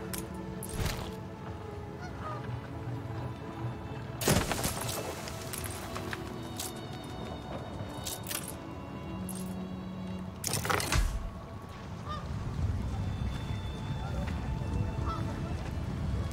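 Geese honk in an Arctic settlement in the city-building game Anno 1800, scattered calls rising over an ambient game soundscape with occasional louder bursts, while a player talks over it.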